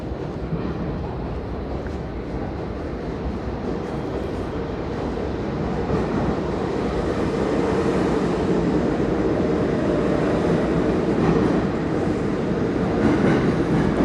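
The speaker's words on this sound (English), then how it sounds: "All right, the train is here." A New York City subway train on Manhattan's Upper East Side rumbles into a station, a steady low roar that builds and swells as it draws near, with faint rattling of the cars.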